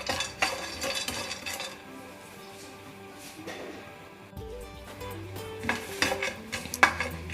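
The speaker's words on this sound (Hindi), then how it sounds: "तो हमें 1 मिनट के लिए बिल्कुल सिम गैस पर इसको फ्राई करना है।" Chopped almonds and cashews dry-roasting in a frying pan over low gas, a spatula stirring and scraping with soft sizzle and occasional metallic clinks, close and moderate, with a brief pause midway.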